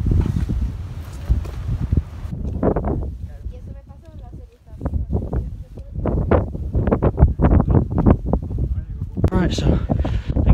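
Strong wind buffets a volcano summit, roaring gusts hitting the microphone with rumbling surges and brief lulls, close and loud throughout, with no voices.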